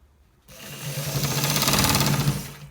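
A sewing machine stitches a shirt collar, starting abruptly after a brief quiet moment and running steadily and fairly loud with a fast, even mechanical whir until the end.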